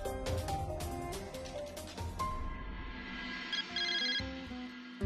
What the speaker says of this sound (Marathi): मी सौरभला फोन लावतो.